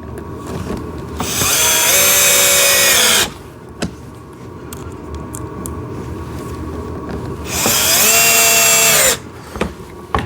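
Power drill driving small screws while assembling a kids' toy tractor, two loud whirring bursts that rise and hold for about one and a half seconds each, close up, with quiet handling noise between them.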